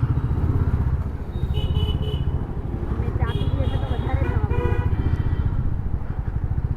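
Motorcycles move through congested street traffic in the narrow lanes of Nathdwara, a steady close engine rumble with passing buzzes and voices in the background.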